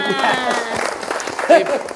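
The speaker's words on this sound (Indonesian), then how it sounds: "kasih tepuk tangan" Audience applause at a Ramadan pre-dawn meal gathering, a brief burst of clapping mixed with voices and chatter, moderately loud, with talk running through it.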